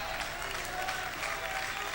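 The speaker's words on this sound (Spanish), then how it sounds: "Si va a aplaudir al Señor, hágalo con fuerza, gloria a Dios." A church congregation claps hard to praise God during a service, a dense, continuous wash of applause filling the room with no break.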